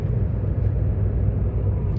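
A car driving over a small bridge on a road from France toward Italy, a loud steady low rumble of engine and tyres heard from inside the cabin, with no talk.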